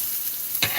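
Leftover rice being broken up and stirred in a seasoned pan: a soft steady sizzling scrape with one sharper, brief clatter near the end, close and alone.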